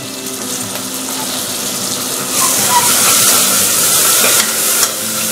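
Ingredients, including sliced tomato, fry in a pan while making Tamil rice and lentil dish, a steady broadband sizzle that swells louder midway and stays close and continuous with no talking.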